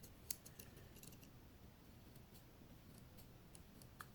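Faint, crisp clicks from the small scissors of a NexTool Mini Sailor multi-tool, a few spaced taps against a quiet background hiss.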